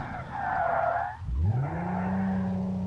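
A car drifting in the BeamNG Drive video game, tires skidding in a loud sustained squeal that shifts pitch as the slide changes, close and alone.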